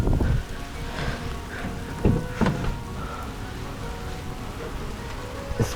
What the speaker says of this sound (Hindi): बारिश तो अच्छी खासी तेज़ है